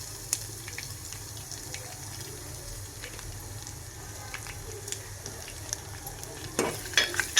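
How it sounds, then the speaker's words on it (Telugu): Crushed garlic fries in oil for a tempering, a soft steady sizzle close by with light stirring scrapes, growing busier and louder toward the end. "అవి వేగినాక వెల్లుల్లిపాయలు బాగా చితగొట్టి దాన్ని వేయాలి."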